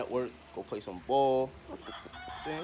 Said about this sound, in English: When you hear the roosters croaking and shit